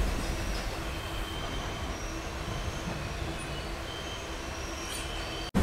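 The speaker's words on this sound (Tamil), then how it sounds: "நம்மளுடைய ட்ரெயின் இப்போ பார்த்தீங்கன்னா திருச்சூர்லேருந்து டிபார்ச்சர் ஆனதுக்கப்புறம்" A passenger express train running between Ernakulam and Guruvayur rumbles steadily with a continuous roar and faint wheel squeal, heard from inside the carriage with no voices.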